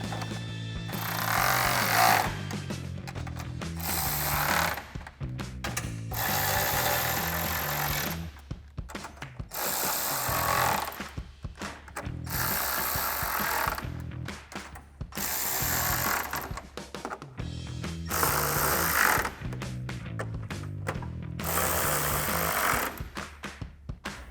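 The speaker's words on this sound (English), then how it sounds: "grab our 10mm socket and tighten all of these down" A ratchet on a 10mm socket snugs down headlight bolts on a 2019-2023 RAM 1500, giving close bursts of rapid clicking separated by short pauses, several times over.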